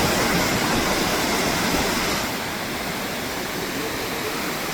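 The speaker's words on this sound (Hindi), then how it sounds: "पानी यहाँ से निकल रहा है, और ये देखें इस तरीके से पानी यहाँ से जा रहा है और पानी सीधा उस तरफ जाके बह रहा है" Water pours out and rushes along a channel outdoors, making a dense, loud, continuous splashing hiss that eases slightly partway through, with no talking.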